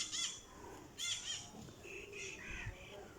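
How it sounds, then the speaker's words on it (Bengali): A parrot takes off nearby with a few quick bursts of fluttering wingbeats and soft chirps, faint and brief, outdoors with a quiet background. "তোতা পাখি উঠে গেছে"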